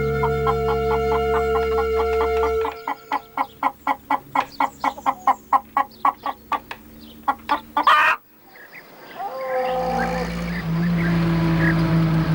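A hen clucking in a churchyard, a long series of sharp, evenly spaced clucks that pause briefly and resume, fairly close, followed by a sudden break and then softer bird calls over a steady background tone.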